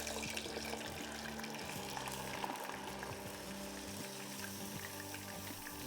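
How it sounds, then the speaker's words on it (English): Partially cooked ingredients fry in hot oil, giving a continuous faint sizzle and bubbling with steady low hum beneath and no talking. "I'm frying these."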